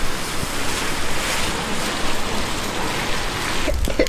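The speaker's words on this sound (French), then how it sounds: "on va braver le vent, la pluie" Steady outdoor wind and rain during a walk in Japan, a continuous broadband roar of gusts and falling water, fairly loud and close, with no voices.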